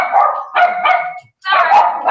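Dogs bark loudly and close in three rough bursts with a short gap between, a harsh repeated barking heard alone.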